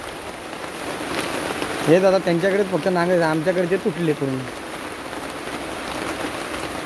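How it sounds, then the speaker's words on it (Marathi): Heavy rain pours steadily in a rural farming area of the Konkan, a constant broad hiss throughout, with someone talking briefly in the middle over the downpour. "पाऊस पण आला, त्यांच्या घराच्या इथं पोचलो मी आणि जोरदार पाऊस यायला लागला"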